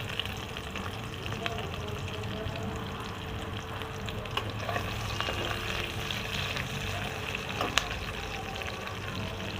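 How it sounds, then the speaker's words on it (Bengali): Onions sizzle steadily in a hot kadai after soybeans have been fried and removed, while being stirred for a chola soybean masala. The frying hiss runs continuously at close range with occasional scraping clicks from the stirring, and no one speaks. "এবারে পেঁয়াজ দিয়ে দিচ্ছি।"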